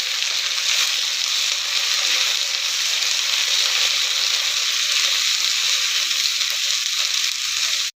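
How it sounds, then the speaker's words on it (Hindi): Ginger-garlic paste sizzling in a hot pan, a loud, steady hiss of frying that holds evenly for about eight seconds before cutting off abruptly at the end. "अदा रसुण बटा पकईली।"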